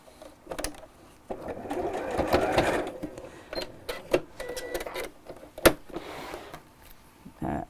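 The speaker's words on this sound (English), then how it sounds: "just sew across the two end bits, just to hold those together while we sew the rest of the bag together" A sewing machine stitches across the ends of a fabric bag in short whirring bursts with pauses between runs, close and moderately loud.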